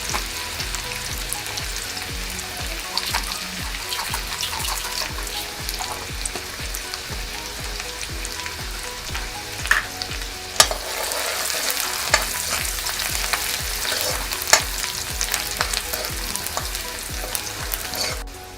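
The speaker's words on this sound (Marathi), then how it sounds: "एक मध्यम आकाराचा कांदा बारीक कापून घेतलेला तो घालायचा आणि थोडा कलर बदलेपर्यंत परतवत राहायचं आहे" Finely chopped onion with a pinch of asafoetida sautés in a pan with a continuous close sizzle, broken by regular rhythmic scraping strokes of a spoon stirring against the pan.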